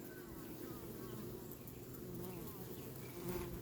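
Honey bees buzz in a dense, continuous hum at an opened hive packed with honey, a steady close swarm drone with no talk over it.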